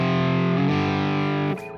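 Distorted electric guitar riff in a blues style, a sustained chord with a slight shift partway through, loud and alone before the level drops near the end.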